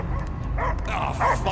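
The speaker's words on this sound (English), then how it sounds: "I hear only barking." Dogs barking and yipping in the Guardians of the Galaxy video game, short bursts of canine calls over a steady game-soundtrack rumble, fairly close and loud.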